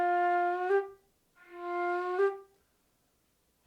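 An Irish flute plays two sustained notes, each rising with a slow finger-rolled slide from F up to G, clear and close with a short pause between them.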